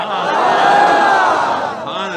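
A large crowd at an Islamic religious gathering shouts a slogan in unison, a loud sustained roar of many voices that swells and then tapers over about two seconds.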